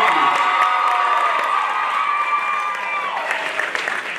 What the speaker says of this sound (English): Give us another round of applause for that.